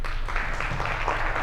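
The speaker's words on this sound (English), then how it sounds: "So can we have a round of applause for the spirit of Delhi?" Conference audience gives a round of applause, dense and steady clapping from a crowd, moderately loud throughout the short stretch with no speech on top.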